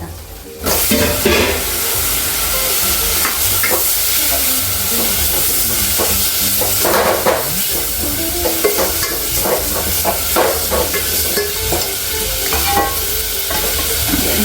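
Tomatoes cook in a pan with coriander-cumin, chili powder and turmeric for lentil dal, giving a steady sizzle and frying hiss throughout, with occasional stirring scrapes and clinks close by.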